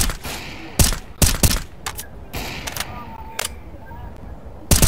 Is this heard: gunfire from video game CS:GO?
yes